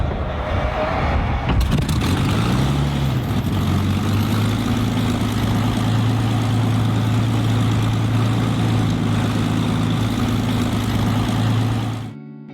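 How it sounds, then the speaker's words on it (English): A loud Hawker Hurricane piston engine roars close by, its pitch dropping briefly before holding a steady, powerful drone that cuts off abruptly. "That was the sound of a Battle of Britain memorial flight, Hawker Hurricane."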